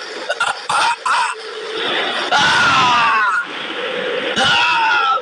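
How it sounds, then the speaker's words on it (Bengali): A loud, strained human scream for help rises and holds for about a second, close by, framed by a few short throaty bursts before and after. "কে যেন চিৎকার করছে বলে মনে হলো না?"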